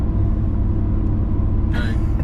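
A steady, deep LS-swapped engine rumble fills the cabin of a moving 1994 Chevy Silverado pickup truck, loud and continuous, with a brief hiss near the end.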